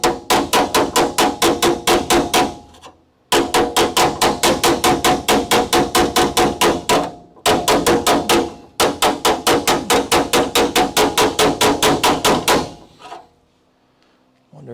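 Hammer blows on wavy sheet metal being flattened at a leaf spring perch during a Crew Cab Charger restoration, loud rapid steady strikes in four long bursts separated by brief pauses, no talking.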